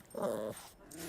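A dog growls low while eating, two short rumbling bursts at close range with a brief pause between, fairly quiet overall.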